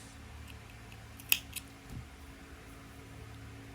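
Scissors snip crochet yarn while finishing flower earrings: two quick, faint cuts close together in an otherwise quiet room.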